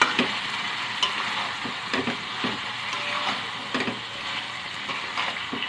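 Chicken sizzles in a pan of cooked-down spice masala with capsicum, a steady frying hiss broken by repeated scraping stirs of a spoon at a close, even level.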